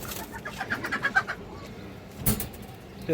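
An army-breed pigeon, lively and restless, gives a short run of soft coos close by, followed by quiet and one sharp clatter near the end.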